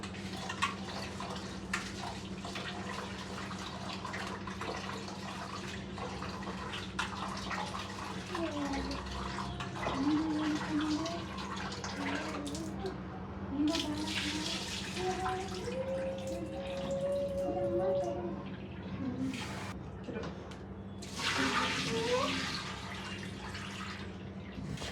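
Tap water runs to soak rice, a steady close trickle and splash under a constant low hum, with occasional brief swells of pouring and some faint background tones.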